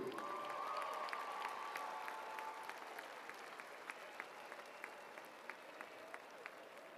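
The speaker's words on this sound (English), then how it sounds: "as we honor with a warm round of applause" Faint, distant arena applause at a high school state basketball tournament honoring Jody Lake, a steady crowd wash that thins into scattered individual claps over several seconds.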